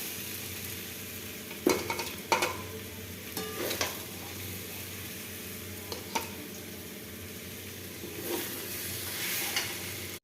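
Potato and parwal vegetable curry sizzles steadily in a pan while a utensil stirs and scrapes in several sharp bursts, close and fairly loud, with no talking.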